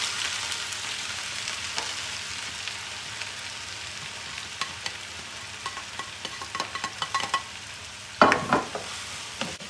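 Chopped onions frying in oil, a steady close sizzle broken by scraping and clattering stir strokes that grow louder and more frequent toward the end.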